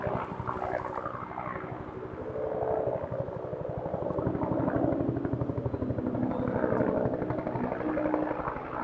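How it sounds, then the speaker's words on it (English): Helicopter flying overhead along a flight path, a low, rhythmic rotor thumping that swells as it passes closer and stays loud throughout, with no talking. "I'm like right under a flight path for these helicopters."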